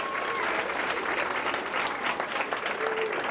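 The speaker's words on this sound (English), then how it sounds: "Let's give them a big round of applause" Audience applause for the senior class of the Henry Clay High School band, a steady, dense wash of clapping from a large crowd that holds at an even level for the whole stretch, with a few faint voices mixed in.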